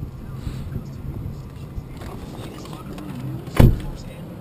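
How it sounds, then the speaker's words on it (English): A car door with a smart-key system is unlocked by touching the handle and pulled open, giving one sharp, close latch clunk over a low background hum and a speaking voice. "To lock or unlock the door, you just reach for the door handle"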